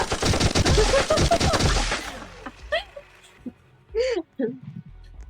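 Rapid automatic gunfire in a video game bursts loudly for about two seconds, then gives way to a few scattered game sounds and short exclamations from players.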